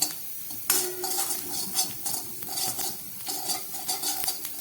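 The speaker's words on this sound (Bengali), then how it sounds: "এটাকে খানিক্ষণ ভেজে নিতে হবে" Coriander and cumin seeds dry roasting in a pan give a soft, continuous crackle, with repeated scraping and stirring strokes of a spoon against the metal, close up and without talk.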